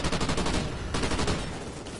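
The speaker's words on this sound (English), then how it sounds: "All these heavy machine guns take time to load." Heavy machine gun fire in the shooter game Call of Duty: Ghosts, a dense, loud, continuous stream of rapid shots over the full two seconds with no talking.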